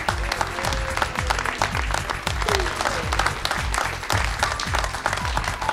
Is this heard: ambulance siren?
no